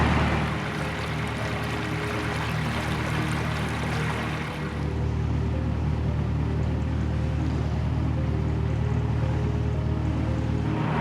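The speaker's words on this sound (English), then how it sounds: "So that speed of the boat is all in sort of just above low revs." A narrowboat engine runs steadily just above low revs on a river, a close, continuous low chugging drone with water wash over it and no talking.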